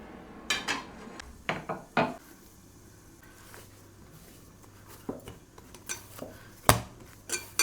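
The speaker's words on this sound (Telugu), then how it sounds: "బటర్ వేసిన తర్వాత బాగా కలిపేసుకునేసి ఇక మూత పెట్టుకొని సిమ్లోనే కుక్ చేసుకోవాలన్నమాట." Metal utensil clatter and scraping in a pot while curry with butter is stirred, then a lid set down on top; scattered sharp clinks and knocks at moderate level, no voices.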